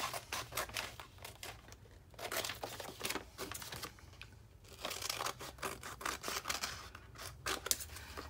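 Paper pages for a ring binder are trimmed with scissors, making repeated close, crisp snips and paper rustles in uneven bursts with brief pauses between them. No one speaks.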